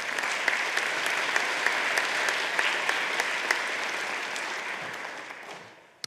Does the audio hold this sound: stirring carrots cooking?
no